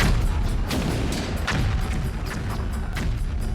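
Cannons firing aboard the sailing ship Surprise during a naval film shoot, a dense run of heavy booms and thuds rolling over continuous low rumble, loud and close with no speech.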